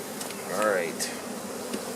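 Honey bees buzz around an opened flow frame hive during an October harvest, a close wavering drone that swells and fades as insects pass near, with a faint voice briefly in the background.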